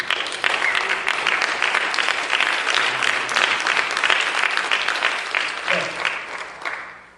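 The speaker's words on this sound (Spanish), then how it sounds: "Aplausos a Dios" A church congregation applauds during a Christmas sermon, dense sustained clapping that fills the room and fades out at the end.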